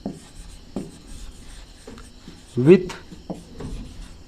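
A pen writing by hand on paper while a geometry problem about two concentric circles is noted down, soft scratchy strokes in short bursts, close, with someone speaking over them.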